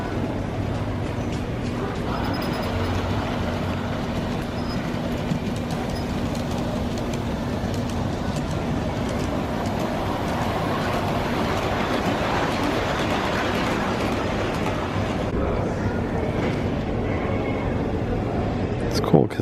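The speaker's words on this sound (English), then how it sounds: "That passenger train over there." A passenger train passes at a distance, a steady broad rumble with faint wheel noise lasting throughout, with speech also present.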